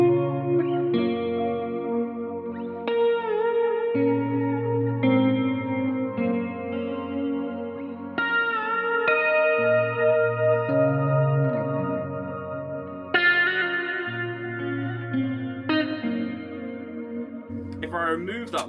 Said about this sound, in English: So when you play it, there's lots of delay, lots of reverb. Really good for kind of ambient tone.